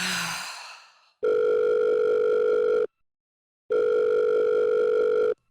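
Telephone being dialed, with a steady electronic tone heard in two clean bursts of about a second and a half each, separated by a short silence, after a brief fading sound at the start.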